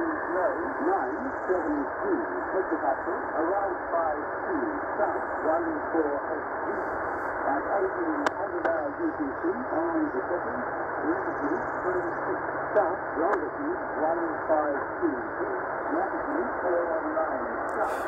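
Shortwave radio reception of the VMW Wiluna marine weather station in Western Australia on 12365 kHz, picked up on a Tecsun PL990X in a quiet outdoor spot: a steady band-limited hiss with a faint, warbling signal, continuous at an even level.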